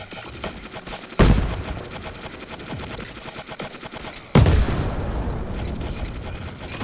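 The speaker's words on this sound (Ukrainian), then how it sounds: "там почалась перестрілка, хтось стріляє" A gunfire shootout in the Roblox video game: rapid machine-gun bursts rattle continuously, with two sharp, heavy blasts punctuating the barrage, loud and close with no talking over it.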